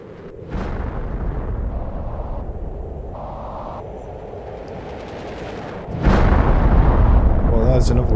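A rocket launch in the survival game Planet Crafter, ending in a faint thud before another burst: a sustained roaring rumble begins abruptly and holds steady for several seconds, then swells louder toward the end.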